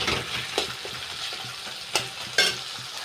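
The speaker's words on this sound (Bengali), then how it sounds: "টমেটোটাকে ভালো করে ওর সাথে কষাবো।" Chopped tomato sautéed with meat in a pan: continuous frying sizzle with a few sharp spatula scrapes and taps against the pan, close and moderately loud, no speech.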